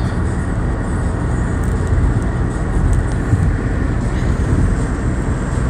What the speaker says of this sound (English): This is really a really busy highway. And I see a few trucks and a few cars